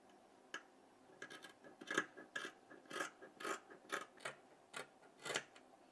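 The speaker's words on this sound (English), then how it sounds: "I'll go ahead and cut the silk material." Fabric scissors snip through silk satin in a quiet room, about a dozen crisp rasping cuts in an uneven rhythm, close and fairly soft, with no talking.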